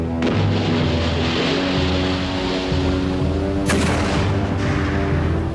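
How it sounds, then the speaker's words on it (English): Warship cannon fire from a naval battle between a British ship of the line and a French flagship: a dense, continuous roar of heavy gunfire, with a sharp loud blast near the end of the passage. "her cannon belched fire into the French flagship"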